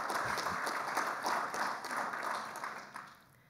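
Applause from an audience at an honorary lecture, a dense wash of clapping filling the room for a few seconds before tapering off.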